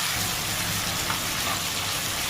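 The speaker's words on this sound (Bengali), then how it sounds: "ভালো করে সবজিটা একটু ভেজে নেবো" Vegetables frying in a pan with split green chillies, for a Bengali pui shak curry with hilsa fish head, make a steady hissing sizzle with no break and no voices.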